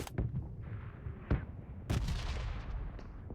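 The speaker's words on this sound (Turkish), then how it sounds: "Bomba sesi patladı ya çünkü." Several sharp booming grenade blasts in PUBG Mobile, one with a long rumbling tail, spaced over a quiet low background.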